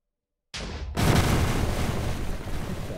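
High explosive grenade detonating in Minecraft with the HBM Tech mod, a sudden close boom after silence, a short sharp crack, then a heavy roaring blast that rumbles on and slowly fades.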